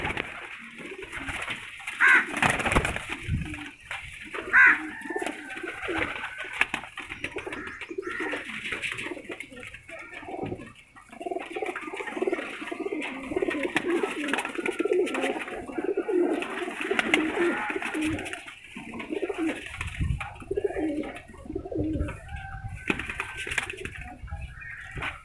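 Pigeons of a prized racing breed coo repeatedly at close range, soft throaty calls in overlapping bursts, with a few chirps and faint wing flaps throughout.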